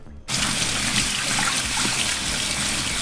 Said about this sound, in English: So now we're just going to rinse it and then set it to the side as well.